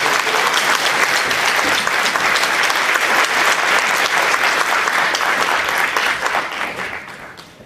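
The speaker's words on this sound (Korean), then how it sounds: "장대련 교수님 뜨거운 박수로 맞아주시기 바랍니다." Warm, dense applause from a lecture audience welcoming Professor Jang Dae-ryun to a special talk, steady and loud throughout before fading slightly at the close.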